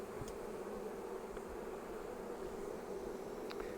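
Honeybees in an open hive give a constant, close, low droning hum that holds steady throughout, with a few faint clicks on top and no voices.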